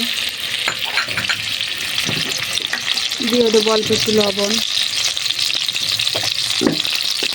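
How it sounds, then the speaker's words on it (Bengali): Shrimp fry in oil in a kadai with a continuous close sizzle and occasional stirring clinks, while a person talks briefly over the frying. "প্রথমে কড়াইতে তেল দিয়ে চিংড়ি মাছটা ভালোভাবে ভেজে নেব।"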